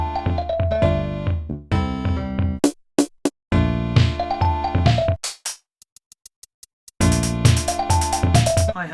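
Mario Paint video game drums and chiptune tones play a loud, busy looped pattern of short plucky notes and percussive hits, broken by a few brief pauses and sparse clicking beats before the full pattern returns.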